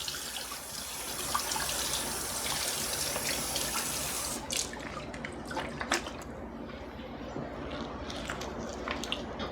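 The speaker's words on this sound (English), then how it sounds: "it's still smart to wash your vegetables when you bring them in." Zucchini from a home garden gets washed under a running kitchen tap, a continuous close rush of water with splashes and drips as the vegetables are turned in the stream.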